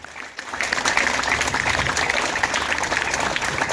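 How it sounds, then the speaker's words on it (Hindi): A crowd at a yoga day event at Moolchand Resort claps loudly and steadily, the applause rising quickly after a brief quiet moment and holding dense to the end. "तो तालियां एक बार और जोरदार बजाइए"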